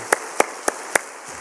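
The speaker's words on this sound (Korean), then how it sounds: "다시 한번 뜨거운 박수로 감사합니다" Four sharp, evenly spaced claps sound close and fairly loud during a Wednesday church service with the congregation gathered, followed by a short quiet tail. No one speaks.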